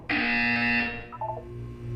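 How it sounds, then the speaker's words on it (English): A single loud, harsh electronic buzz from Portal 2 lasting under a second, then cutting off into quieter background noise. "When you hear the buzzer, look up at the ceiling"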